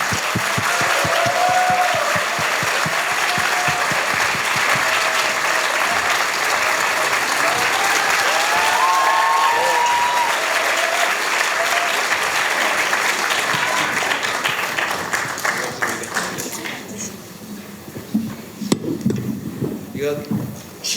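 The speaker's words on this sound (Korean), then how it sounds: "이제 이재명 후보님을 아주 힘찬 박수로 모시도록 하겠습니다" University students in Gwangju applaud loudly as presidential candidate Lee Jae-myung enters a lecture event, a dense, roaring wash of clapping and crowd noise that holds steady before thinning and tapering toward the end.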